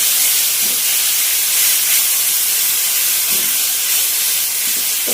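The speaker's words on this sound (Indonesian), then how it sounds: "Tumis sampai matang." Steady, loud hissing sizzle of spice paste sautéing with lemongrass, bay leaves and lime leaves for a Padang-style beef gulai, continuous throughout with faint low clatter underneath.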